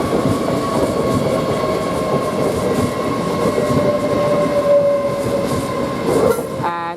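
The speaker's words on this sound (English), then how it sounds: "Now we get the LNER service, which is the 1527 from London King's Cross towards Newcastle." LNER Class 800 Azuma train, units 801 112 and 801 105, running at Durham station on the London King's Cross to Newcastle service, with a steady loud rumble, a sustained tonal whine and a screech near the end.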